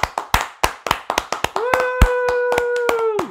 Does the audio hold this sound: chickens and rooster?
no